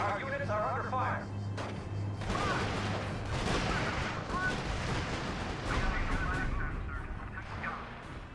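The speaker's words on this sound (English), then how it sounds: "Our units are under fire." Artillery and gunfire in a battle from the strategy game RUSE, repeated distant booms and crackling shots mixed with radio-style voice reports over a steady low hum.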